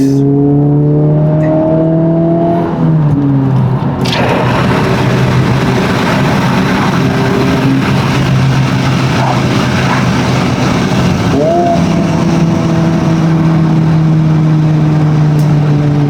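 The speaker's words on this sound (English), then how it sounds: "The turbo 4-cylinder builds boost, and then it just goes." A Honda Civic Type R FL5 with a turbocharged four-cylinder pulls hard, its loud engine note climbing steadily through two gear changes and rising again after each shift.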